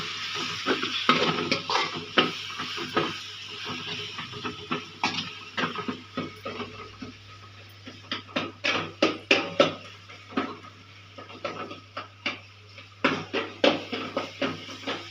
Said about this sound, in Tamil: தக்காளி நல்லா வதக்கிறேன்.